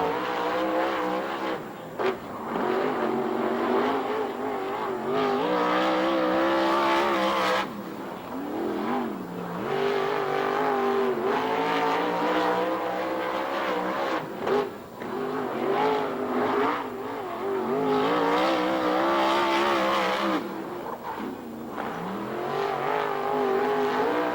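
360 sprint cars race around a Ventura, California track, engines roaring loud and continuous with repeated surges as cars pass close, revving and fading in waves for the whole stretch with no talk.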